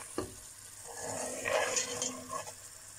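Semolina dry-roasting on low heat in a pan for halwa, with soft scraping stirs and a faint, gentle sizzle, quiet and close.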